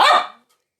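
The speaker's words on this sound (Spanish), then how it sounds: "Ese es mi perro Simón" A single loud bark from a dog indoors, close and brief, fading quickly into silence.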